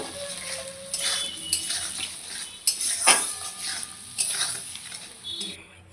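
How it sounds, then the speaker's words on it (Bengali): A spatula clinks and scrapes in a pan as turmeric and Kashmiri chili powder are stirred in for a hilsa fish curry with eggplant and potato, soft sizzle beneath, with someone talking over it. "তো ভালো করে এখন নেড়ে চেড়ে নেব"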